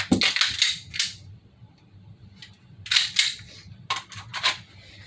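An FN P90 airsoft replica by Cybergun fires in short bursts of sharp, snappy clicks, with rapid clusters at the start, middle and end and quiet gaps between them.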